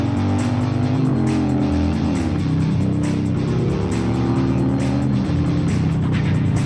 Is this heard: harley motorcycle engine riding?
yes